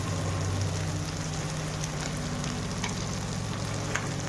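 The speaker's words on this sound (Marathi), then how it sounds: "चांगला मसाला भाजून घ्यायचा लसूण भाजलं" Masala with garlic frying in a pan, a dense continuous close sizzle with faint crackles and a few light stirring clicks throughout.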